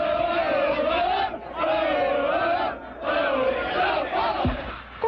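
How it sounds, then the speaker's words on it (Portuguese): A euphoric football crowd in a São Paulo stadium chants loudly in sustained rhythmic waves, with brief dips between phrases, a massed roar heard without any single voice standing out. "Consequências de uma torcida eufórica."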